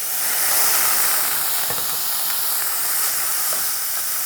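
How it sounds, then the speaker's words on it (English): Onions dry sautéing without oil in a very hot pan give off a steady, loud steamy hiss and sizzle that holds for the whole stretch, with no talking. "This is what I call a dry saute."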